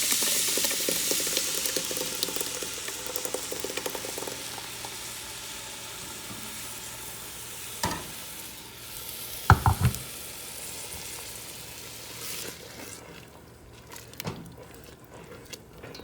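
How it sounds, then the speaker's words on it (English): Crushed whole tomatoes go into a hot pan with a steady low sizzle, with a few sharp clatters and splashes partway through before it quiets down. "Now I have 35 ounces of crushed whole tomatoes that I will add."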